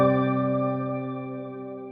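A sustained synth piano chord in Bitwig rings out and slowly fades, its tones lingering in a shimmering, bright stock shimmer reverb tail.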